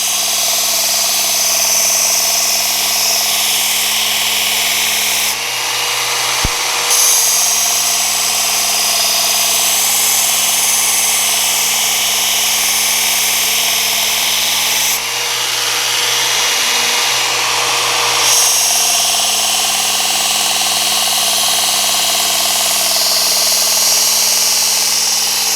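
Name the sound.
sharpening a knife with a power tool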